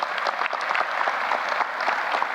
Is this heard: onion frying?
no